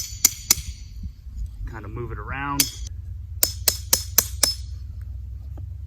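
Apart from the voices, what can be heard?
hammering a hole into the ground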